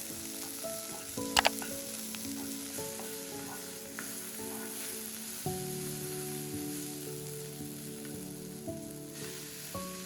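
A Sri Lankan chicken curry base with chopped tomato fries in a pan, a continuous close sizzle with a couple of sharp utensil clicks early on and faint stirring throughout.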